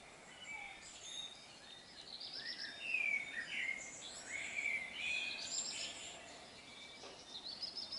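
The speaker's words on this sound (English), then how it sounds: "You know, listening to the bird song." Several wild birds sing and chirp at dawn under a clear sky, overlapping warbling phrases at moderate distance over a quiet outdoor background, with no talking.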